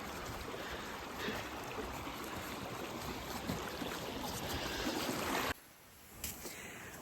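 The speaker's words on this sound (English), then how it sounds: "We are just putting the fire out" Water poured steadily onto a campfire in snowy woods, a continuous hissing, trickling wash close by that stops abruptly near the end, leaving quiet outdoor air.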